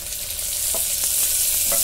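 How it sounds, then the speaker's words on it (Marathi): Tomatoes go into a pan of onions already fried reddish-brown, producing a steady loud sizzle with a few soft stirring knocks throughout. "त्याच्यामध्ये टोमॅटो टाकून घेते"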